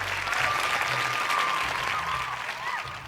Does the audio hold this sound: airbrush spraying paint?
no